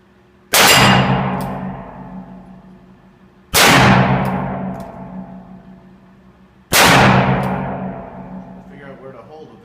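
An 1860 Army black powder revolver loaded with Pyrodex fires three loud, close shots, evenly spaced about three seconds apart, each with a sharp crack and a long ringing decay.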